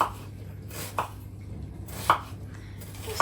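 An onion sliced on a cutting board in a home kitchen, with a few sharp, separate knife chops spaced about a second apart over a low background hum.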